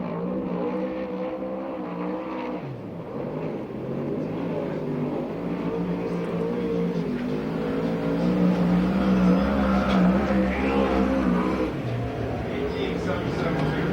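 A USAC/CRA sprint car runs a qualifying lap at Perris, its engine droning steadily and rising louder toward the middle before easing off, with an announcer talking over it throughout.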